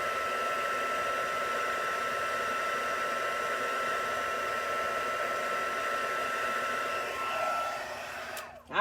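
Heat tool blowing hot air to emboss clear ink on a stamped card, a loud steady whooshing hum that holds evenly for several seconds, then shifts and cuts off at the end.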